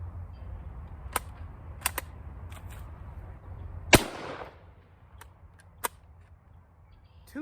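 Surplus 8mm Argentine rifle ammunition from 1954 fires with one loud, sharp report midway, amid several fainter clicks and knocks of handling the rifle.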